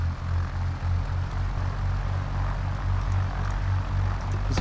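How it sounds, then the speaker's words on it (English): A simulated Carenado Cessna 172 Skyhawk piston engine in X-Plane 10 drones steadily with a low, pulsing propeller throb and constant hum, loud and close throughout with no talk. "Why don't we'll just start this back up, and we'll get to hear the engines."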